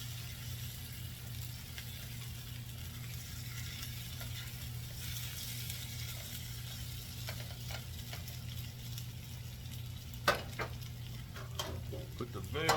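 Home fried potatoes sizzle steadily in a pan. Near the end come a few sharp scrapes and clanks as they are flipped, with the hiss running close and even throughout.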